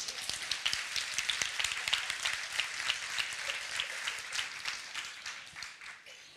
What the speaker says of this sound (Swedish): Ja, en applåd.